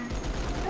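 Sustained rapid gunfire in the video game Halo 3, dense and continuous with battle noise throughout a brief burst.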